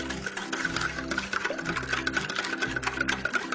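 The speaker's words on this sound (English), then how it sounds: "And whisk it until it's all mixed together, just like this." A whisk beats a half-and-half cream mixture in a bowl, giving a steady, close rhythmic whirring and clicking that runs throughout without talk.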